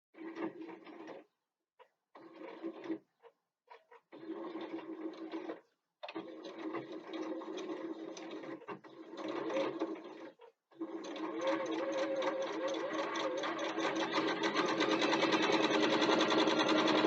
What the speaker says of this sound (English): So we're going to top stitch the slip pocket now